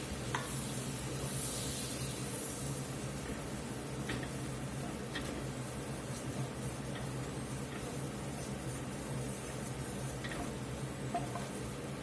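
Butter and all-purpose flour roux for French onion soup sizzling steadily in a pot, a soft continuous frying hiss with occasional faint ticks, no talking.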